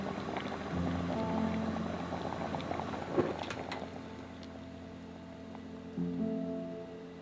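A pot of red beans boils in syrup made from water and Japanese fine granulated sugar, with soft, faint bubbling and light patter running steadily throughout, alone and without talk.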